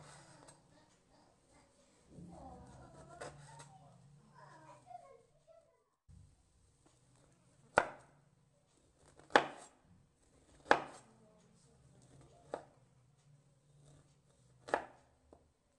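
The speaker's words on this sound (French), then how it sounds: "Maintenant, je retire la peau et je la découpe en rondelles." A knife slices a peeled orange into rounds, with about half a dozen crisp, separate cuts at uneven intervals. Each cut sounds close and sharp against a quiet kitchen background, with faint shuffling noises before the cutting begins.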